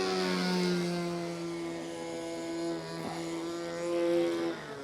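A small nitro model airplane engine drones steadily at high revs, its pitch rising and falling slightly as it buzzes like a chainsaw, with no voices.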